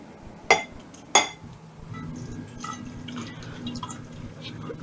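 Dishes and utensils rinsed in a home kitchen after making lemon chicken: two crisp clinks of crockery, then running water and soft handling noises, close by.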